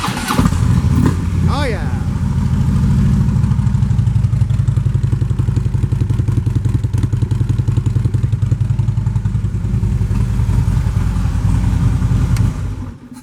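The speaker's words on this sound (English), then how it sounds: "A super nice set of Vance & Hines pipes that you don't have to pay for. Nice tone out of those, loud enough to be heard and noticed" A 2016 Harley-Davidson Road Glide Ultra V-twin fitted with Vance & Hines pipes starts with a brief clatter and settles into a loud, steady, deep lumpy idle nearby for over ten seconds, with a person briefly exclaiming at the start.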